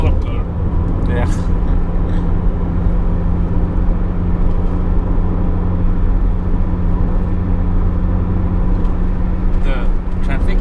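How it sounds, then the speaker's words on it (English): Heavy road traffic in Mumbai rumbles steadily around a moving car, with engine drone, passing vehicles and occasional horn-like bursts near the start and end, with faint voices underneath. "The traffic is just so intense."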